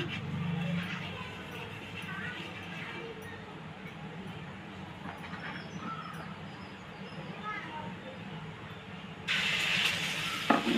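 Green gram dosa batter sizzles on a hot pan as a steady, close crackling hiss, with a sharper, louder burst of sizzling near the end.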